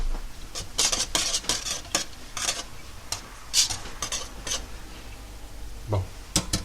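A wire whisk beating in a bowl while making couscous, producing fast rhythmic clicking and scraping strokes that are close and steady, with brief pauses between runs.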